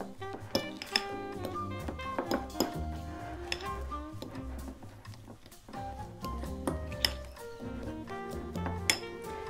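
Canapé filling for 1950s-style canapés being stirred in a bowl, with a spoon clinking and scraping against the sides in a brisk, irregular rhythm, close and moderately loud.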